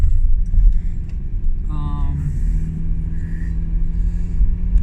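Steady low rumble of a car driving on a cold morning commute, engine and road noise continuous and fairly loud from inside the cabin, with a brief tonal chime partway through.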